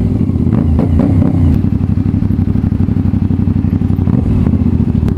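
A CFMOTO 450SR-S motorcycle accelerating hard up close, its engine a loud, steady, rapid-firing drone that climbs in revs through the run, heard alone without talk.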